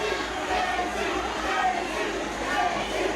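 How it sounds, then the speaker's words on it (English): Capacity crowd in a women's wrestling arena chanting, a dense rhythmic roar of many voices with regular swells, fairly loud and close, and a commentator's voice heard over it. "And now you hear the capacity crowd chanting for JC Storm, the WWF Women's Champion"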